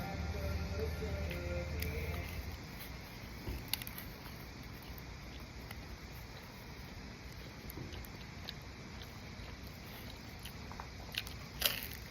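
Someone bites into and chews sourdough pizza with cheese close to the mic, with soft crunches and chewing noises over a steady background hiss and no speech.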